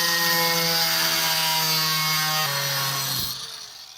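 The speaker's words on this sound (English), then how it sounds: "we're going to just clamp this to our bench here and then take an angle grinder" Angle grinder cutting sheet metal clamped to a workbench, a steady loud high-pitched whine with harmonic tones that drops in pitch partway through and then winds down near the end.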